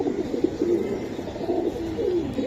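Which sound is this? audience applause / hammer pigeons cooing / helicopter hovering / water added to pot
hammer pigeons cooing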